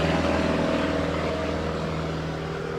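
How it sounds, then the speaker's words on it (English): A propeller airplane passes overhead, its loud, steady droning hum rich in engine tones filling the air and easing off slightly as it moves away, with no talking. "I'll let the airplane go by."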